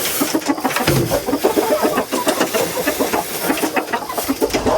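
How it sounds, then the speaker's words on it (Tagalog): Chickens cluck and peck busily while being fed, a close, dense chorus of short rhythmic clucks from several birds with a faint low hum underneath, no talking. "Magpapatoka tayo ng manok."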